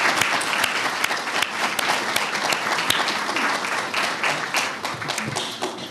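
At a hospital leadership lecture, a large audience gives steady, dense applause for instructors, many hands clapping continuously at even volume with no speech over it.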